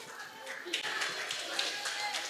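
An audience claps at a church children's service, a brief burst of dense hand-clapping mixed with voices throughout.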